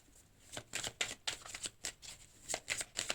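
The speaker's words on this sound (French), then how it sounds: "Allez, on va voir une petite carte chacun." A tarot deck is shuffled close by in a run of quick, crisp papery riffles, a dozen or so soft bursts in steady rhythm with no talk.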